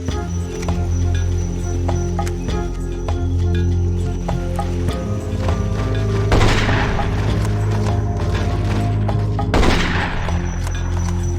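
Gunfire in the jungle-warfare video game Marine Sharpshooter 2: Jungle Warfare, with sustained rattling bursts over a steady background hum and two sharper volleys near the end, no talk.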